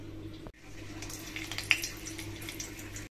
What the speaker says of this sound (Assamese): এতিয়া তেল দিছো